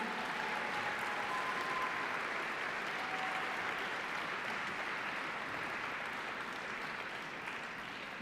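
Sustained audience applause fills an awards ceremony hall as the Fairview High School team from Boulder, Colorado takes the stage at the National Science Bowl, a steady dense clapping that fades slightly toward the end.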